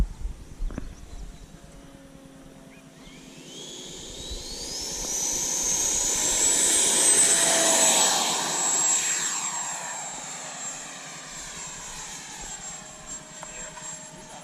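Freewing F-22 Raptor 90mm EDF RC jet on 6S power taking off: a whine that climbs steeply in pitch, swells to a loud peak, then gradually fades as the jet moves away.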